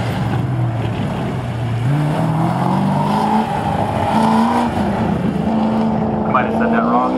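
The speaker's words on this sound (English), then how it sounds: "Steve Arbaugh behind the wheel." A race car engine at the Goodguys Scottsdale event drones loudly and steadily, its pitch stepping upward through gear changes as it accelerates, with crowd and commentary noise mixed beneath.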